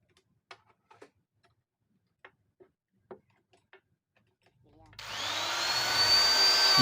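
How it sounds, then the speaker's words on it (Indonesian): A die grinder with a wood grinding bit spins up near the end at about 27,000 RPM, giving a rising high whine. It follows several faint ticks and clicks of handling, with no talking heard. "Ini saya akan coba terlebih dahulu untuk mata gerinda kayu ya."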